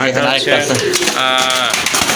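A female racing pigeon coos in soft, low bursts close by, partly masked by someone talking over it.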